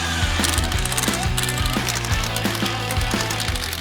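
A ratchet tightens the cylinder head bolts on an engine with a leaking head gasket, giving steady rapid clicking in repeated strokes over a low mechanical hum, close and fairly loud.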